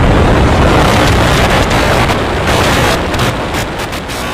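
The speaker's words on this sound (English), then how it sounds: "We have liftoff. Vehicle is pitching downrange." A SpaceX Starship rocket lifts off on its fourth integrated flight test, a loud, continuous broadband roar like distant rumbling thunder that fills the whole clip without voices.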